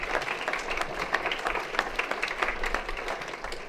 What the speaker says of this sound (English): can I ask you to give him a special warm round of applause